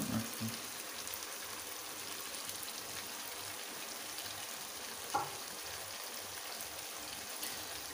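Peshawari charsi chicken karahi fries with black pepper in a wok, giving a continuous soft sizzle and crackle with one brief louder stir knock midway, quiet and even throughout.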